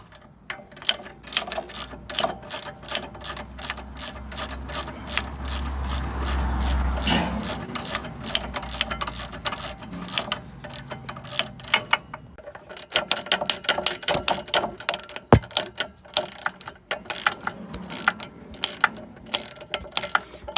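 A socket ratchet clicks in rapid runs while tightening the rear brake caliper bolts on a Mercedes A207 E-Class, close and crisp, with pauses and a few metallic clinks between bursts and no talk.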